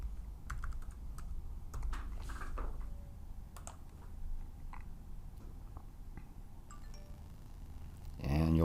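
Keys on a Mac keyboard are tapped to enter a passcode, producing scattered light clicks in an irregular rhythm, close and fairly faint, with a louder clatter at the very end.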